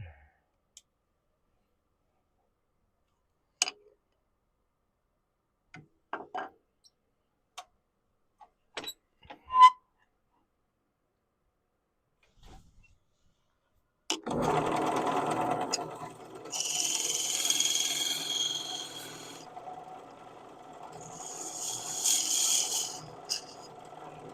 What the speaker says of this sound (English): So I'm going to get my homemade sidewall scraper out here